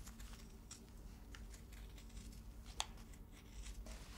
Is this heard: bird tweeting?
no